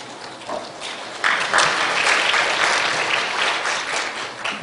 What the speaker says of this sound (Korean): 박수 쳐주셔서 감사합니다